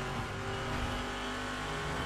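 A 1969 Dodge Charger engine in a video game drones and revs continuously, loud and unbroken from start to finish.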